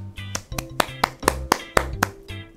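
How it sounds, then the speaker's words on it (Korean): Rhythmic clapping for a children's Sunday school online church service, claps landing in an even beat about four per second, crisp and close, with a low musical backing underneath. "다들 박수로 축하하도록 하겠습니다"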